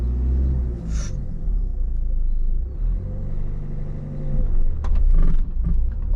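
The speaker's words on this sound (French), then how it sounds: "On remet en route le moteur ici." A learner driver's car engine idles with a low rumble, then revs as it pulls away in first gear, with a brief rattle of the controls. Loudness rises steadily toward the end, and no one speaks.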